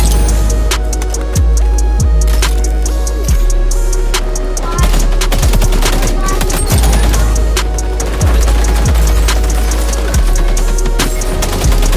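AK rifle fire in the video game XDefiant, loud rapid bursts of gunshots repeating through the whole stretch, with heavy low booms and dense crackling reports.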